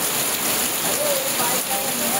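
Heavy rain pouring down steadily, a dense continuous hiss of falling water with no breaks, fairly close and moderately loud.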